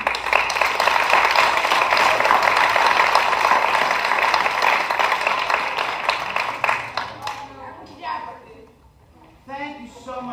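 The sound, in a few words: audience applause for jazz band students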